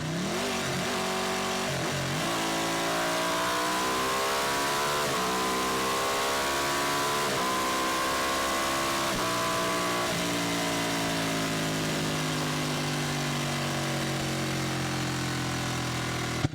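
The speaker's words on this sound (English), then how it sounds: "So let's go ahead and do a quick pull and see what it feels like in traffic." A Ducati 899 Panigale motorcycle pulls hard through traffic, its engine revving up loud and close in several rising surges, each broken by a quick gear shift, then settling into a steadier, lower drone. No one speaks.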